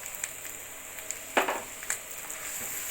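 Spices fry with Kashmiri chili powder and sweet curd for a vegetarian aloo dum, giving a soft, steady sizzle with a few brief stirring scrapes, heard close and faint.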